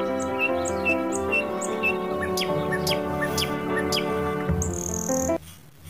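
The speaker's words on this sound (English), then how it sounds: "P for parrot." A parrot calls in a run of short, bright chirps over steady sustained musical tones, fairly close, with the sound cutting out sharply near the end.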